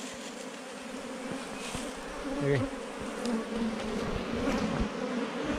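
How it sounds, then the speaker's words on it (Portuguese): A giant honeybee swarm buzzes outdoors around farm workers, a dense continuous drone that swells and fades slightly as the recorder moves close, with a brief spoken word from a man nearby. "Olha o zunido,"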